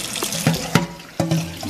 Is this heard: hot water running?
yes